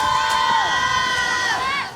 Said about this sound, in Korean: 스트레칭으로 몸을 풀면서 함성과 함께 분위기를 띄웠고